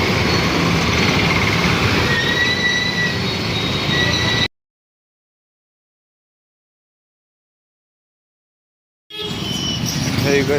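A moving passenger train gives a continuous rattling, rushing rumble with faint metallic whines, cut off by a few seconds of silence before the noise resumes.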